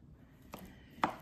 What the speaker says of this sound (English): very clearly rough chopping these to mix them in with the rest of our batter